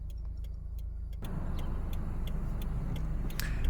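A car rolls along with a constant low engine and road rumble that steps up slightly partway through, heading toward a customs entrance near an airport in Querétaro, Mexico, with faint ticking on top.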